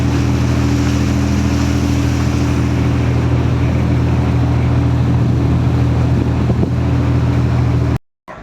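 A steady, loud engine drone with a deep rumbling hum from a tour boat's motor and exhaust in Rotterdam, continuing without a break before cutting out briefly near the end.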